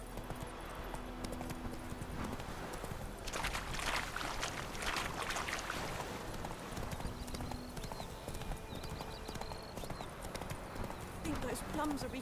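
Hooves of Roach, a horse in the video game The Witcher 3, clip-clop in a steady rhythm throughout, with a voice talking over them and a soft ambient outdoor background.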